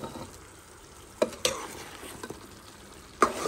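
Potatoes and masala chicken stirred together in a pan, soft scraping and a low sizzle with a few sharp knocks of the spoon against the pan, close and quiet.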